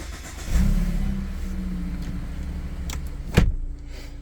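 A 2020 Mazda CX-5 GT AWD engine starts by push-button ignition with a sharp crank and catch, then settles into a steady, quiet idle close by, ending with a brief knock.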